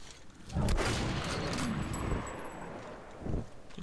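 Shotgun blasts in the first-person shooter Metro: Last Light, a heavy booming discharge followed by a long rumbling tail and a second thud near the end, set against a swampy in-game ambience.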